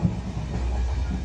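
A train runs in an audio story sound effect, a brief low rolling rumble with a faint rhythmic clatter, steady and unaccompanied by voices.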